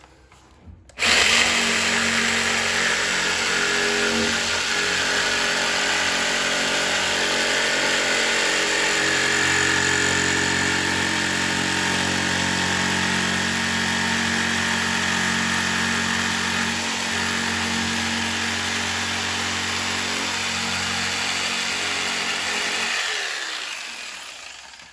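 A power tool blade cutting into an EZGO golf cart body to fit LED headlights and taillights, a loud steady whine that starts abruptly, grinds on for over twenty seconds close up, then winds down.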